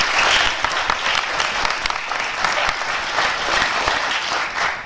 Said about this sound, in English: Can we also have another round of applause for Carla and team?